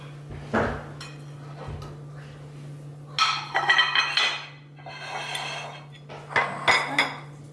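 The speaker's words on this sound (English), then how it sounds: "And let me get my platter." Dishes and a serving platter clatter and clink in a kitchen where onion rings are being breaded for deep frying, with a sharp knock early on, then two busy bursts of rattling crockery under a steady low hum.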